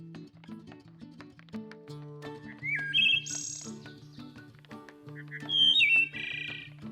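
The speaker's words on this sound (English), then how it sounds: "The wood thrush spends its summers breeding in woodland areas throughout the eastern United States." A wood thrush sings in eastern woodland: clear, fluting whistled phrases and trills ring out twice over a background of steady low tones, moderately loud and close.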